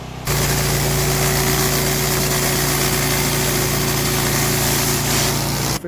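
A pressure washer rated at 4 GPM with a 2.1 injector runs for a full house wash in Celebration, giving a loud, steady engine drone and hum throughout, close to the microphone, with no one talking over it.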